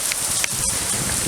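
Heavy rain pouring down outdoors in a sudden downpour, a dense, steady hiss of drops drumming on surfaces, loud and continuous with no voices.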